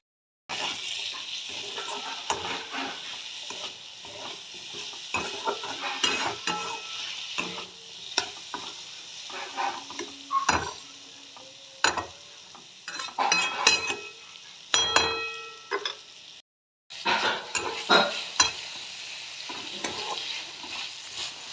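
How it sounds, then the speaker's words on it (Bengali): Vegetables with curry leaves, turmeric and sugar stir-fried in a pan: steady sizzling under repeated scraping and clinking spoon strokes, close and busy, with a brief pause near the end. "সবজিগুলো ভাজা হয়ে গেছে"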